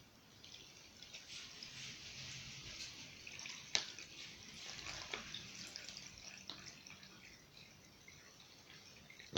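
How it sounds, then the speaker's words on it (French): Water trickles and drips softly into a small plastic pouch for a Mini Sawyer filter outdoors, a faint, steady pour with a few sharper plastic clicks. "Je verse l'eau dans la petite poche."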